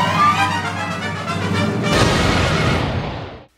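Cartoon grenade explosion, a loud, sustained roaring blast that swells midway and then rumbles out and fades to silence.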